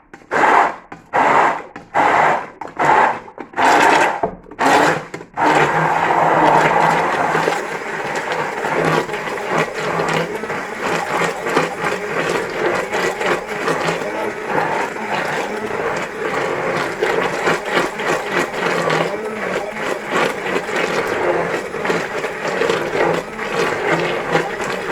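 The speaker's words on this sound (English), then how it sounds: "Hand blender at the ready, so might make a bit of a noise." A hand blender mincing chicken for a clarified stock: several short pulsed bursts, then a long continuous loud whirring grind up close, with no talk.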